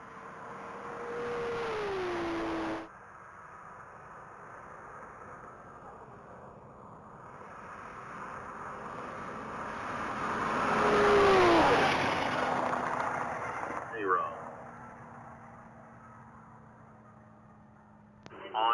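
Race car running at the Texas Mile top speed event, its engine note rising and swelling as it approaches and passes in the distance, with an announcer talking over the track ambience.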